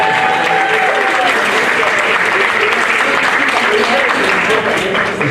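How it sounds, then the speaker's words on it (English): Loud, dense audience applause fills a youth soccer team banquet hall, sustained evenly throughout without a break. "Let's also give a round of applause for our host coordinator and operations manager, Ms. G."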